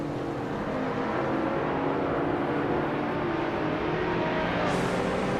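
A 2015 Porsche 911 GT3 race car engine in a racing game gives a steady, loud, continuous drone with no breaks, holding an even pitch the whole time.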